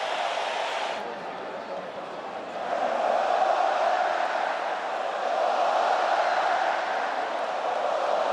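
A stadium crowd at the 2013 Confederations Cup match between Brazil and Spain keeps up a sustained roar of cheering, swelling louder partway through and staying loud.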